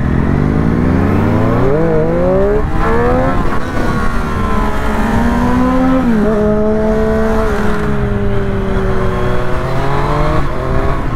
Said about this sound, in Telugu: ఈ బండిలో స్టాక్ ఎగ్జాస్ట్ ఉంది కాబట్టి అంత సౌండ్ రావట్లేదు.